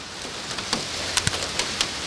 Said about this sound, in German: es ist nur kleiner Hagel, aber es klingt am Auto natürlich relativ stark